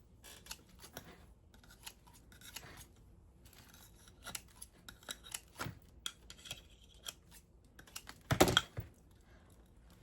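Scissors trim gift wrapping with a series of short, close snips and crisp paper rustles, ending in a louder cluster of cuts near the end.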